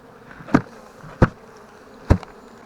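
Honey bees from a swarm that has been shaken out in front of a hive entrance give three sharp close buzzing bursts over a quiet background hum.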